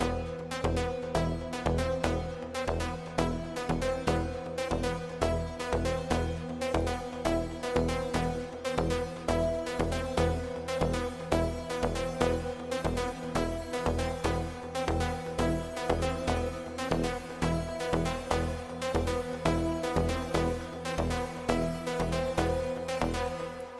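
An Afro tech track built from FL Studio stock plugins plays continuously with a driving kick and percussion, its Lux reverb wetness automated to rise so the mix grows fuller and more washed out over time.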